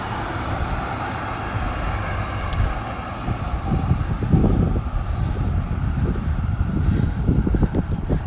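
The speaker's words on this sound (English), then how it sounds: "There goes the tram." A tram passing along a Melbourne street, a low rumbling roll of wheels on rails that swells as it draws near and rolls past amid outdoor street ambience.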